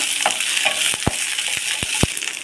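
Ginger and green chilies sautéing in a pan, a steady sizzle beneath several sharp clicks and scrapes of a spoon against the metal, close by.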